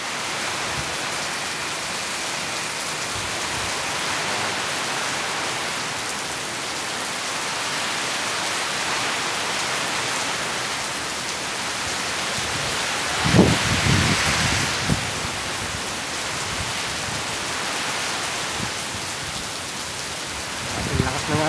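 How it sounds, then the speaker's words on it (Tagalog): Heavy rain from typhoon Opong under Signal No. 3 in Buenasuerte, Nabas, Aklan, a steady loud roar with gusting wind throughout and a few brief bumps near the middle, with no talk. "Ang lakas ng hangin. Oh, ulan."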